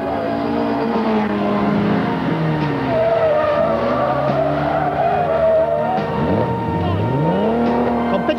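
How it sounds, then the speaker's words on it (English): A low-line Triumph TR4 historic rally car at the 1993 RAC Historic Rally is driven hard on a smooth circuit stage, its engine rising and falling through gear changes, with tyres squealing as it passes. "even Roger Clark came out to play in his low-line TR4."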